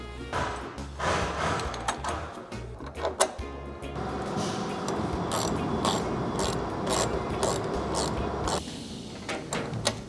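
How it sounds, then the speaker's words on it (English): A ratchet wrench bolts a pinch weld bracket onto a Mercedes Sprinter van, producing loud, close rapid clicking and mechanical rattling that runs nearly continuously for ten seconds. "you're gonna wanna bolt in the pinch weld bracket"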